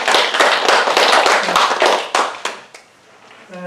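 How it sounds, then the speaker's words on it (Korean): A church congregation gives a dense burst of hand clapping for about two and a half seconds, then the applause thins out and a voice briefly begins. "우리 박수 한번 쳐주세요."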